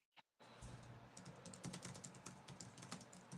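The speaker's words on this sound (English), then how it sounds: "You're typing away there." Rapid typing on a computer keyboard, a steady run of close, crisp key clicks with uneven rhythm, alone after a brief pause at the start.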